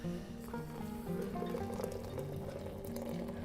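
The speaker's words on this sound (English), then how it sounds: "Now, we're going to add a little bit of hot water." Hot water is poured onto ground coffee in a French press, a soft, steady gurgling trickle with faint bubbling and a few light clinks, heard alone at low level.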